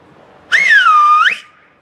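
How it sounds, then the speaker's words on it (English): A man whistles a family call on a comedy stage: one loud, clear whistle that dips, holds level, then curls upward before cutting off, alone with no talk around it. "with my kids, we had a family whistle"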